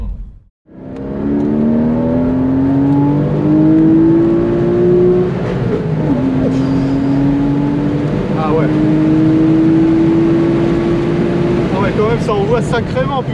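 A Porsche Boxster accelerates hard, its engine note rising steadily over several seconds with a brief dip as it shifts, loud and close inside the car, with people talking over it.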